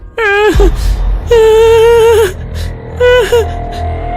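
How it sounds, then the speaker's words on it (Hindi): An infant wails in three loud, sustained bursts with short breaks between them, close and clear with no other voices. "अरे, ये बच्चे के रोने की आवाज कहाँ से आ रही है?"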